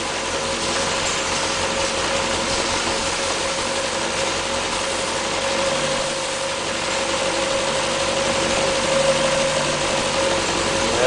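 A 1500cc engine in an MG Midget runs steadily close by, a constant mechanical drone with a faint tonal whine that rises slightly as the idle speed climbs toward the end.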